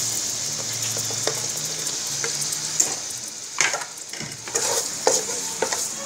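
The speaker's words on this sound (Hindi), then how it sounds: "इनको पहले डाल के फ्राई कर लेते हैं ताकि ये थोड़े से नरम हो जाए" Carrots and peas fry in a wok for vegetable and chicken biryani, a steady sizzle with several sharp scraping stirs of a spatula in the second half, close and fairly loud with no talking.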